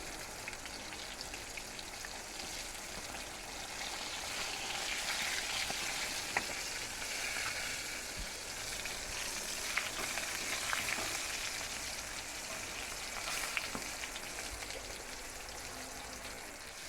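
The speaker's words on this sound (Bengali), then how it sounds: "পটলটা একটু কড়া করে লাল লাল করে ভেজে নিতে হবে।" Pointed gourd frying in hot oil, a faint, steady crackling sizzle with scattered pops that carries on without any voices.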